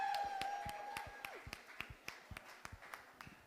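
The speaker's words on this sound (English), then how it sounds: "let's have a big round of applause for both our new education and postgraduate officers" An audience at a student union results night claps for newly elected education and postgraduate officers, first dense and fast, then thinning to scattered individual claps over a faint background hum.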